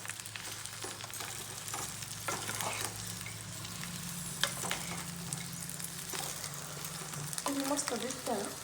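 Stuffed chillies fry in oil in a home kitchen pan, a steady low sizzle with occasional scraping stirs and a brief voice near the end.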